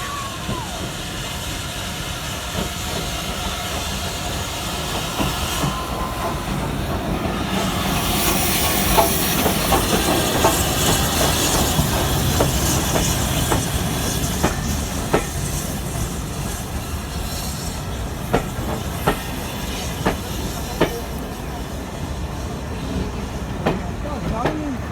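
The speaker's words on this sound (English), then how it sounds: "Please stand well clear of the platform edge as the train enters the station" A train rumbles and hisses as it rolls into a station on the Great Central Railway, with rhythmic clicks of wheels over rail joints and metallic squeals, loud and close.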